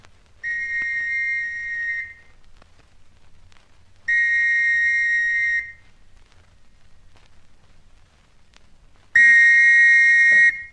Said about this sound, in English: Police whistle again, I think.